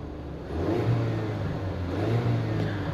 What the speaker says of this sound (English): let's go ahead and hear this 2-liter engine rev a little bit.